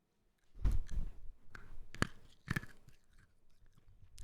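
Crunchy, airy Asian candy crunched between the teeth, a few sharp crisp bites near the mouth followed by softer, steady chewing, with no talking.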